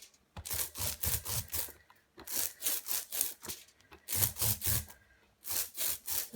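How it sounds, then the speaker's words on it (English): A cheap roller being rolled through ink on a cardboard plate, giving repeated sticky, rasping strokes in quick bursts with short pauses between passes, close and fairly quiet. "I'm just using some more cardboard as the plate to roll on, and a pretty cheap roller"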